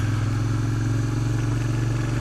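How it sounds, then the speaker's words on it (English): A motorcycle pulls away smoothly as the rider eases the clutch through the friction zone while adding throttle, a close, steady engine hum and low rumble with no talking. "I'm going to first add a little bit of throttle, and then slowly let go of the clutch, hitting the friction zone"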